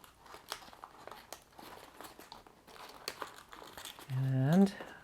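Origami paper being folded and creased makes soft, close crinkling and rustling throughout, with a brief tonal squeak near the end.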